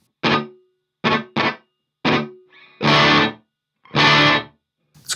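An EHX Oceans Abyss reverb pedal on a locker room setting turns a string of short plucked notes and longer strummed chords into roomy, echoing tones with clear gaps of silence between them.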